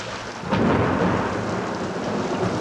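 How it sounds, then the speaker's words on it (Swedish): Steady rain pours down in a thunderstorm, a dense continuous hiss that swells slightly about half a second in, with no voices. "men det regnar ju."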